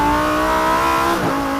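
A Lamborghini Huracan EVO RWD's naturally aspirated V10 revs hard and close, a loud, steady, rising engine note that dips briefly near the end as it shifts, then carries on.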